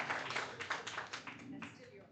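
An audience claps at an evening business association event, quieter and somewhat distant, with separate claps standing out in a fading round.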